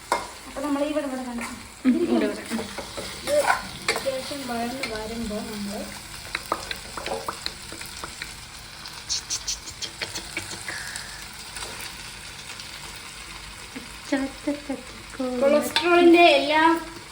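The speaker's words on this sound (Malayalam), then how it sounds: "നമ്മുടെ ഉള്ളിയും തക്കാളിയും ക്യാപ്സിക്കൊക്കെ ഇട്ട് വഴറ്റി ആ മസാലയിലേക്ക് നമ്മൾ നേരെ ചിക്കൻ ആഡ് ചെയ്തിട്ടുണ്ട്." Onion, tomato and capsicum sautéing with chicken in a masala, stirred repeatedly with a spoon scraping the pan; the scraping comes in short bursts near the mic over a steady sizzle, and a quiet voice shows up now and then underneath.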